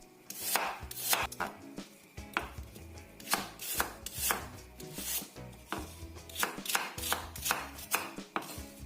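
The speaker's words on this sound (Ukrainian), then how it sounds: "нарізаємо кубиками" A knife chops peeled, cored apples into cubes on a cutting board, a quick run of sharp close knocks in an uneven rhythm, alone with no talking.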